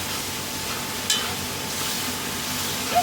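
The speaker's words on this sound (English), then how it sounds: "Stir that in." Brown sugar is stirred into a pot of beef carbonnade, making a steady, close sizzling and scraping hiss with a couple of brief soft knocks and no talking.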